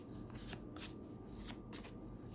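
Tarot cards being shuffled by hand, a continuous soft riffling and sliding of cards with a few sharper flicks, close and quiet.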